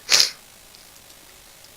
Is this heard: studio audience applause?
no